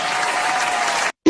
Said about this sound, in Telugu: అందరూ చప్పట్లు చప్పట్లు.